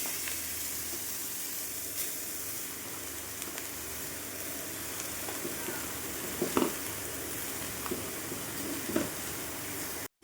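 Salt-and-turmeric-coated eggplant sizzles steadily in hot oil with dried red chillies in a kadai, a continuous close frying hiss with a few brief pops and clicks.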